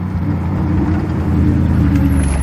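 A Gumpert Apollo supercar on the road during a rally event, its engine giving a loud, steady low rumble that swells slightly as it draws near and passes.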